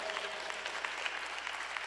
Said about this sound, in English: Give them a loving round of applause